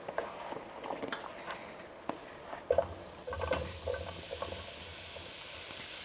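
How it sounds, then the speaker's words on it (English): Cauliflower pieces hit a hot pan and start to roast, with a sudden burst of loud sizzling about midway. Steady frying crackle continues with light stirring scrapes and clinks throughout. "Our pan is nice and hot. We're just adding the cauliflower in there."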